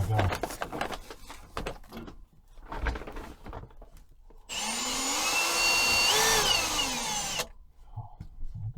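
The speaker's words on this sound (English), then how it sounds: "One-handed drill." A one-handed power drill whirs in a single steady burst of about three seconds, rising and dipping briefly in pitch near the end, after scattered knocks and handling noises underground.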